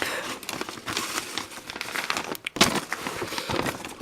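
A paper envelope crinkles and rustles up close while handmade polymer clay items are packed into a parcel, with irregular crisp crackles and one sharper tearing crunch.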